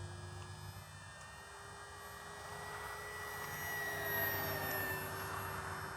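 An FMS 1500mm Cessna Skylane 182 radio-controlled airplane flies overhead, its electric motor giving a continuous high, buzzing whine that slowly grows louder as it passes, heard at a moderate distance.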